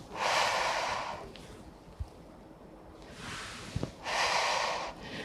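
During a Pilates exercise a person breathes close to the microphone in long airy breaths, an exhale, a pause, then a strong inhale with a faint click between them.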